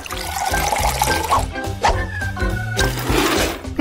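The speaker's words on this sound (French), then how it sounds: "Maintenant, je vais le mettre dans la tasse." Freshly brewed coffee is poured into a cup with a loud, close, continuous liquid gurgle and splash that lasts a few seconds, mixed with background music.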